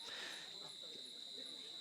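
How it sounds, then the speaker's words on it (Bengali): Crickets chirp steadily all around in the dark beside the Teesta river, a continuous high shrill drone with faint murmuring underneath. "চারিদিকে ঝিঝি পোকার ডাক,"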